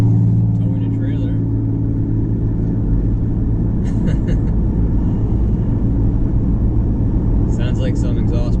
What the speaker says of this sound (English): Sounds like some exhaust parts must have fallen off of that truck.